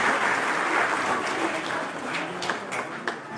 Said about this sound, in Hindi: एक बार जोरदार तालियां बजाएं सोलो सॉन्ग कंपटीशन के लिए।